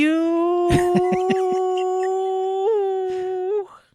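A single long, steady howl rises slightly in pitch and then trails off, with a few brief taps and knocks beneath it, loud and close.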